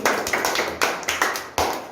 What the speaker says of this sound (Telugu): సో సార్ కోసం బిగ్ క్లాప్స్ అండి